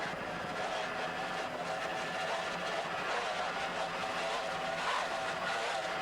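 Three 2.5 EFI outboard motors power an offshore racing boat at full throttle, producing a continuous loud, wind-buffeted engine roar with no letup and no talk.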